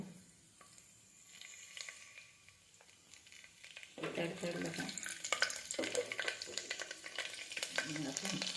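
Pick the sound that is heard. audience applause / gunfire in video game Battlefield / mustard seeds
mustard seeds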